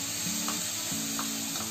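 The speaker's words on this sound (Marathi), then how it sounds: "आता आपण ही ग्रेव्ही आहे ना आपल्या कांद्यामध्ये ओतूया." Curd and spice gravy poured into onions in a kadhai over a low flame gives a quiet sizzle with brief pouring and stirring sounds in short bursts, close and alone.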